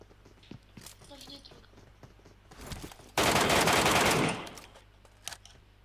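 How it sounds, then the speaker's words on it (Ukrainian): A short burst of rapid automatic gunfire from a video game, loud and lasting about a second, with quieter game sounds before and after. "Я чую, що хтось то стріляв"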